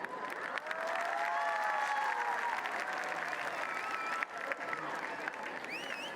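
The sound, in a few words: stadium audience applauding loudly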